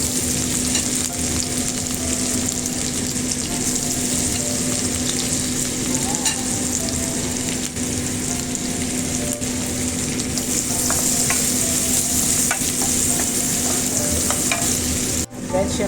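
Onion sautéing in butter for minced chicken, a steady, loud sizzle that runs the whole time under rhythmic stirring scrapes, with no voices.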